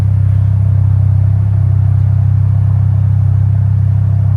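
A 2025 Ford Mustang EcoBoost with an MBRP cat-back exhaust idles steadily, giving a deep, even, close-up rumble that stays constant throughout with no revving.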